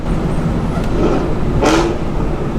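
A Mustang engine note changes pitch as it downshifts, a brief rising rev near the middle over steady road and cabin rumble, heard from nearby with no talk.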